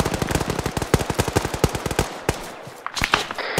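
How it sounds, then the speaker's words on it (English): Rapid suppressing gunfire in the video game Arma 3 during a milsim PvP operation, close and loud automatic bursts in a quick staccato rhythm that thins into scattered shots near the end. "My squad, keep suppressing, keep firing."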